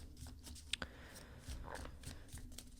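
Tarot cards being shuffled by hand, soft riffling and sliding with a few sharper snaps and taps, quiet and close, with faint talk in the background.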